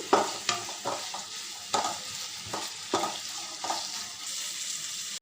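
Vinegar, chilli sauce and soy sauce stirred together in a hot pan for veg noodles, repeated scraping strokes of a spoon every half second or so over a continuous hiss, close and unaccompanied by talk.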